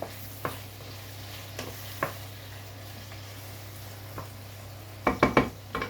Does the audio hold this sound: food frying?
yes